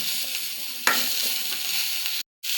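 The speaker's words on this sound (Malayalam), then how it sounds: "ബ്രൗൺ കളറാകണവരെ ഒന്ന് വഴറ്റി കൊടുക്കുക" Small shallots sautéing in a pan toward browning for a simple sambar, a steady close sizzle with a stirring scrape near the start and a brief dropout near the end.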